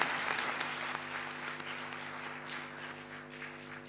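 An audience applauds a panel moderator at an International Day of Education talk show, with steady, dense clapping that fills the room and stays even before slowly thinning out.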